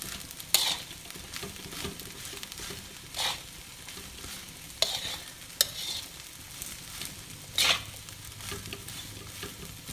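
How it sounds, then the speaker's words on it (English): Balinese fried rice stir-fried in a pan over a high flame, with a steady sizzle and periodic scraping strokes of a spatula against the metal, close and fairly loud. "You need high flame for making fried rice, so the fragrance will come out."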